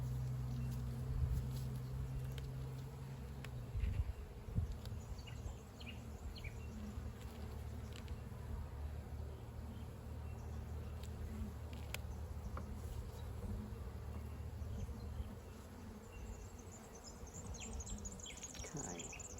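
Honeybees buzz steadily during a spring hive inspection in Australia, a dense close drone of many wings with individual bees passing near, constant for the whole stretch with faint handling sounds.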